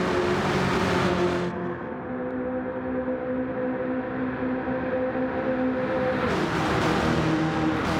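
Several race cars run together in a tight pack during a simulated oval stock-car race at Dayton, engines droning loud and steady with held pitches shifting as the group roars along close by, no talk.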